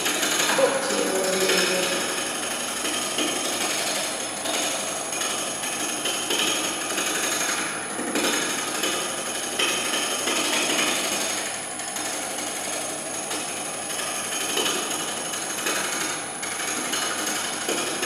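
A small wood lathe spinning a timber blank, giving a steady whirring drone with a scraping, chattering cut running continuously and evenly at close range, with no voices.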